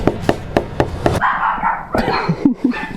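Several dogs bark in a house after a knock on the door, a quick run of sharp close barks followed by yips and whines, loud and without talk.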